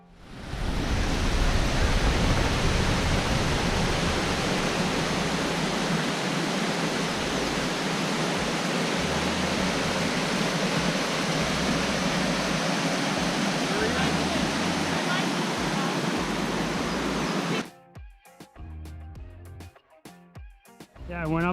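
A waterfall on the Falls Trail at Ricketts Glen State Park roars as a dense, steady rush of falling water close by, then cuts off abruptly near the end, leaving brief scattered handling noises.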